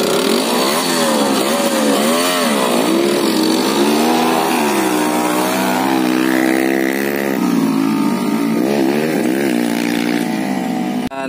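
A trail dirt motorcycle engine runs loud and close on a dirt circuit, revving up and down in repeated surges with a buzzy, raspy drone for the whole stretch.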